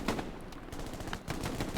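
Shotgun fire in the Hell Let Loose video game during a fight through back gardens: loud, close blasts that come in a rapid run of overlapping bursts with no break across the whole stretch.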